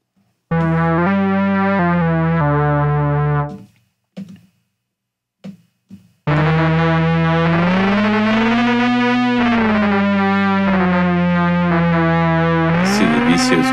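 A buzzy, distorted Gforce Oddity 3 synthesizer tone holds and steps between notes, drops out into brief bursts, then returns, the second oscillator gliding smoothly in pitch with pink noise layered in.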